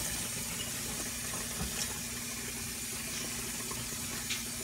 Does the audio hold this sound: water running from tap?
yes